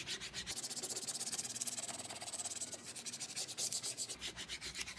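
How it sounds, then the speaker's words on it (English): Vinyl lettering being scraped down through transfer tape onto a wooden board for an outdoor porch sign, a steady close rubbing scrape running in continuous back-and-forth strokes throughout. "So again, scrape the entire vinyl down."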